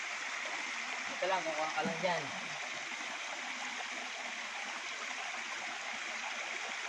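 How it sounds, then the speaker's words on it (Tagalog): A running stream in Labrador, Pangasinan rushes steadily and close by, a constant broadband wash of flowing water, with someone speaking briefly over it early on. "Basta running water, drinkable ang running water."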